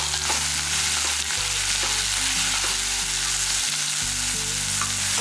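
Tomato sautés with onions in a pan for a South Indian buttermilk curry, a loud continuous sizzle with stirring scrapes over a low steady hum, close and without talk.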